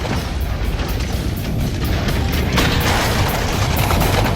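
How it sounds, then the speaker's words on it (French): An apartment set blows apart in a staged explosion, a dense, rumbling blast with crackling debris that stays loud throughout and surges again partway through. "une magnifique explosion d'appartement sur commande"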